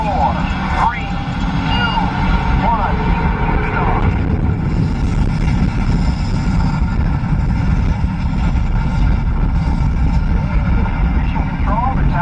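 Simulated rocket main engine start on the Mission: Space ride at Epcot, Walt Disney World: a loud, steady broadband rumble that fills the whole stretch, with voices talking over it.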